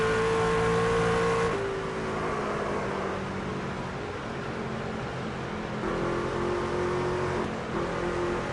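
Race truck engine in the NASCAR 25 video game during a Craftsman Truck Series championship race, a loud steady drone that shifts pitch as the throttle comes on and gears change.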